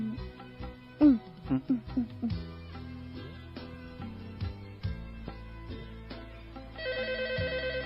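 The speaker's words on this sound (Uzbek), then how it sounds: "telefon" A telephone rings in a film scene, a steady repeating electronic trill that starts near the end over ongoing background music.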